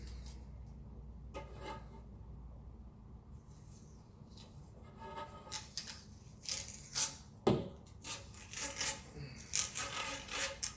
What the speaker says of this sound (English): I'm going to tape it up.